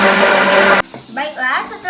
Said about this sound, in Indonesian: Kita blender sampai kita mendapatkan santan kentalnya kurang lebih 1-2 menit.